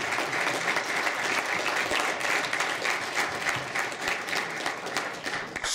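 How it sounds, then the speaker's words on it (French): A lecture audience gives the speaker a steady round of applause, dense and fairly loud, continuing evenly for several seconds with no talk over it. "vous allez être obligé de prendre des applaudissements"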